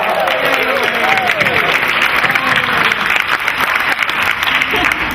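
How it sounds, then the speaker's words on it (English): Loud, close applause from a healthcare conference audience, continuous dense clapping with some vocal cheers and crowd voices mixed underneath. "Give a round of applause."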